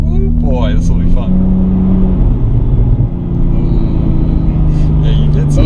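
Porsche engine rumbling and revving steadily up close throughout, with a sustained low drone and a few sharp exhaust pops, while people talk over it.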